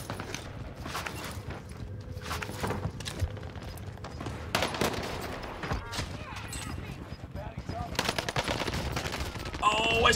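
Gunfire in Call of Duty Warzone on the Fortune's Keep map, rapid automatic bursts and sharp shots with footsteps, mixed under excited talking from players.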